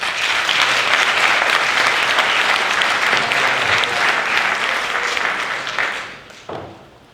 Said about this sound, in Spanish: a los dos me gustaría que les recibiéramos con un fuerte aplauso